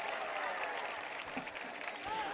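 Crowd at an all-India mushaira poetry gathering claps together, a steady moderate wash of applause with faint voices mixed in.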